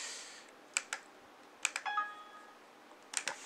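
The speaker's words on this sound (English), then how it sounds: "The typing's awkward down here again." Scattered keystrokes on a computer keyboard while working on a document in Windows 1.01, arriving in short clusters of sharp clicks with quiet pauses between, alone and fairly close.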